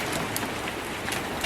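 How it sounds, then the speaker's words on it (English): Rain falls steadily outdoors, a dense even hiss of drops striking surfaces, with no voices. "and it's raining again."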